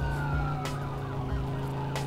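A video game police car siren wails in a continuous rising and falling sweep, loud and close, over a low steady engine drone with no talk.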